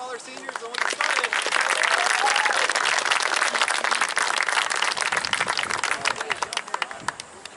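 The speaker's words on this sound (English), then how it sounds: "if we can give one more round of applause for all our seniors" Sustained audience applause for the seniors at a school soccer senior night, dense and steady clapping across the whole stretch with some voices mixed into the crowd noise.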